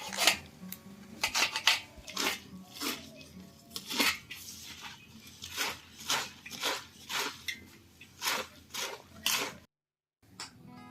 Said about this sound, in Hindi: तो इस तरह से धीरे धीरे मैं सारे पत्ते काट लूंगी।